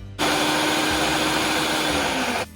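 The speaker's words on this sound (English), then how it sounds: "I'm just gonna let the machine blend the dry ingredients together for me" A kitchen mixing machine whirs steadily while blending dry ingredients for maple macadamia cookies, one loud continuous motor drone starting abruptly and cutting off after about two seconds, with no voices.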